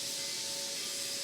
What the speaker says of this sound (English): That's actually the steam going up the smokestack.